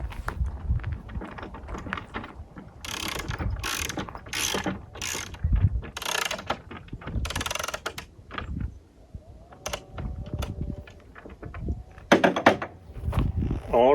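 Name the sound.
ratchet tightening bolts on desk shelves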